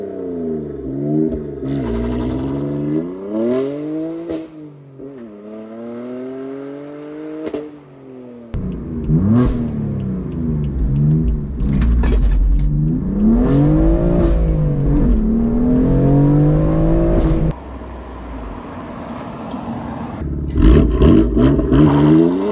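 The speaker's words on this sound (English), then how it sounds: "Let's hear it actually in action." A BMW M4 revs and accelerates hard through repeated gear changes, the engine note climbing and dropping in loud sweeping surges, with a brief tire squeal near the end.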